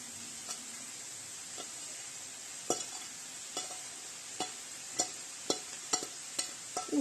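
Finely chopped mushrooms stirred in a frying pan, with a steady low sizzle and a series of soft, irregular spatula scrapes and taps that grow more frequent toward the end.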